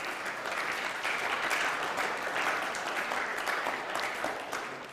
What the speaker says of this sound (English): let's give everyone here a warm Cedar Lane applause